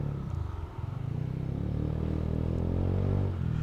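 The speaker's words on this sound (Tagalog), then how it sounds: "Di ko alam kung rinig nyo yung muffler ko. Bassy siya." Deep, bassy exhaust from a Honda Genio scooter's muffler rumbling steadily, idling with a low throb and a slight rise near the end.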